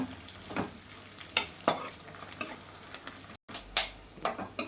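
Peanuts frying in oil in a pan, giving a steady close sizzle broken by sharp stirring scrapes and clinks every second or so, with a brief dropout partway through.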